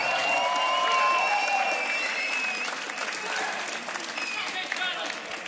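Loud, sustained applause from a crowd at a beatbox showcase battle, greeting a solo performer from the USA, with cheers and whistles rising over the clapping and slowly easing off over several seconds.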